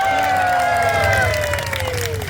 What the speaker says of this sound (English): Applause cue.